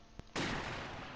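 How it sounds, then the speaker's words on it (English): Gunfire from Soviet troops in the Close Combat wartime strategy game: a single sharp shot followed by a loud, sustained burst of overlapping rifle and machine-gun fire. "now we're really taking fire from the Soviets"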